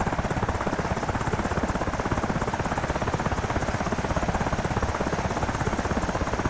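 In the DCS flight simulator, a helicopter hovers near a ship as plane guard, its rotor producing a loud, steady rhythmic thumping over a dense engine roar, constant and close.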